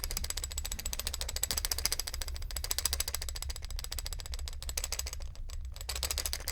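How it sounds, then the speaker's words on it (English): A makeup brush container handled up close in a quiet room, giving a steady stream of fine rattling, clicking and rustling with brief pauses near the end. "a makeup brush container, I would say"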